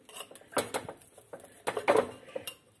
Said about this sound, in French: je vais racler avec mon couteau pour ramener tout vers le milieu